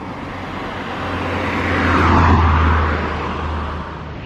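A single car passes on a quiet road near St Tropez, its engine and tyre noise swelling to a broad, close peak midway and then fading away.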